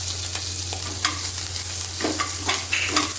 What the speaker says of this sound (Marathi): आता चरबी वितळलेली आहे आणि त्याचं तेल तयार झालेलं आहे. तर आपण त्याच्यात तयार करणार आहोत लसूण.